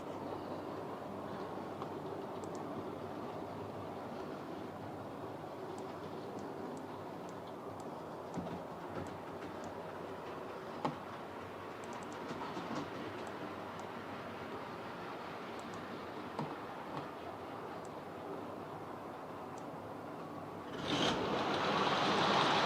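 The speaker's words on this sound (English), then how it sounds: "let's take the colas and put that into the siding" A model railway train runs steadily at close range, its continuous rolling rumble and rattle of wagons holding throughout, then swelling louder near the end as cola wagons are shunted into a siding.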